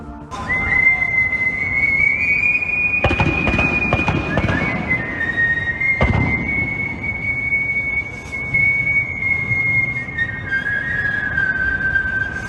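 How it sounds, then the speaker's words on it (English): A man whistles the national anthem at a Baltimore Orioles baseball game, a sustained, clear whistled melody that glides between held notes over steady crowd and stadium noise. "did you guys see this man at the Baltimore Orioles game whistling the national anthem?"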